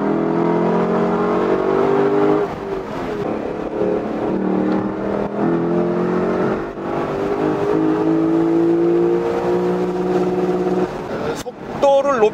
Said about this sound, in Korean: 스포츠 모드로 가서 좀 달려봅니다